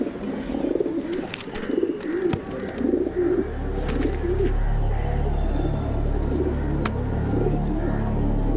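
Soft, repeated pigeon coos in a gentle rolling rhythm, layered over a steady low rumble like wind or distant traffic.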